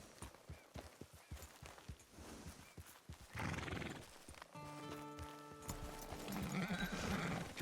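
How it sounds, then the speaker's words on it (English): Hooves clip-clop in a steady gait, then a horse lets out a loud, drawn-out whinny with further neighing, in the Red Dead Redemption 2 Online game world. "It's your horse."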